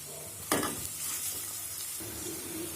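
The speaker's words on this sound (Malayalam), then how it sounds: "സവാള ഇതുപോലെ നീളത്തിൽ അരിഞ്ഞു വെച്ചിട്ടുണ്ട്. ഇത് ഇതിലേക്ക് ചേർത്ത് കൊടുത്തിട്ട് നന്നായിട്ടൊന്ന് ഫ്രൈ ചെയ്തെടുക്കണം." Sliced onions fry in ghee inside a pressure cooker, a steady close sizzle with a sharp burst of crackle and stirring near the start, then a continuous hiss.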